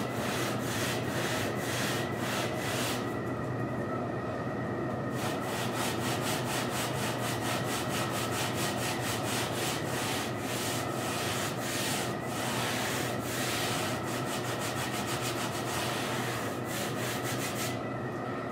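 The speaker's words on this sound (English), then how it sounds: "be somewhat gentle with it because the edges of the sanding block here will actually catch the foam and rip it to shreds" Foam being lightly sanded with a sanding block in a steady rhythm of back-and-forth rubbing strokes, close and continuous, with a brief lull partway through.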